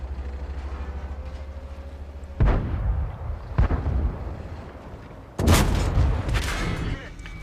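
Heavy tank cannon fire in World of Tanks, with a shell hitting a tank's lower armor plate: booming blasts with rumbling tails, the first and last strongest, over a steady engine hum.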